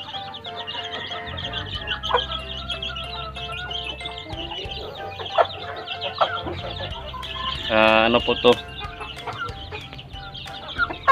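A free-range native cross Basilan hen and her chicks cluck and peep in a backyard, with steady chirping, scattered clucks and a louder hen call partway through, while someone talks over them.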